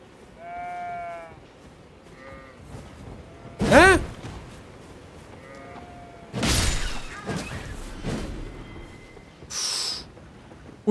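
Goats in the video game Elden Ring bleat in several separate wavering calls, some loud and close, with bursts of combat noise between them.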